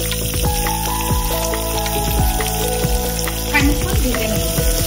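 Chopped onions frying in a pan with a pinch of asafoetida give a steady close sizzle, broken by repeated scraping and stirring knocks.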